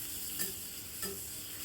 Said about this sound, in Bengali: মাছগুলো কেমন সুন্দর ভাজা হয়ে গেছে